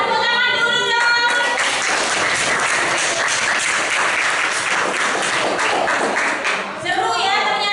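A classroom audience in a school lesson on cultural diversity claps loudly and steadily, while voices can be heard talking at the start and end.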